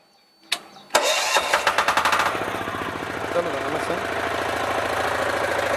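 A power weeder engine is pulled over. A few sharp cranking coughs come first, then it catches with rapid popping bursts and settles into a steady, loud idle close by.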